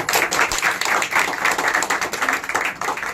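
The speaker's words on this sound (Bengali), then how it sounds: "ওর জন্য একটা জোরে হাততালি।" An audience at a theatre group's birthday celebration claps for an actor, with a brisk, rhythmic round of hand claps from a small nearby crowd lasting the whole stretch.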